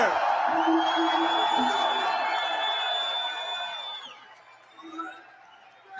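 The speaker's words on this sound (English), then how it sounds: "Give them a cheer." A crowd at a Star Wars: The Force Awakens fan gathering cheers and whoops loudly, the roar holding for about four seconds before fading into quieter murmuring.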